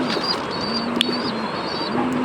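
Damascene and racer pigeons coo in low, repeated phrases, with thin higher calls and a sharp chirp breaking in, fairly close and with no talking.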